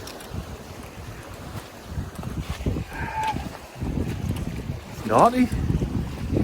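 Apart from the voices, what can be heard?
strong wind and waves against a kayak on a Scottish loch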